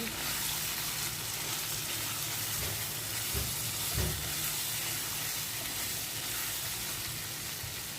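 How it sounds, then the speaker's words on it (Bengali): Grated carrots frying in oil for carrot halwa, a steady dense sizzle that carries on evenly, with a few soft stirring knocks. "এখন ভালো করে তেলে ভেজে নেব"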